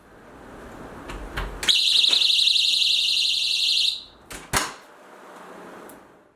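A battery door alarm triggered by separating metal contacts gives a piercing high-pitched electronic blare steadily for about two seconds, then cuts off, followed by a couple of clicks and handling noises.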